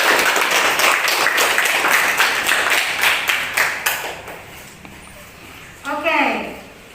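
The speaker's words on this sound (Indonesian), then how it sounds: "Kita berikan aplaus kepada yang bisa." Nursing students in a classroom clap together in a brisk, even burst that fades over a few seconds, followed by a short spoken phrase at the end.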